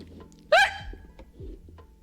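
A single sharp hiccup from a woman stands out against quiet room noise, followed by faint low background sounds.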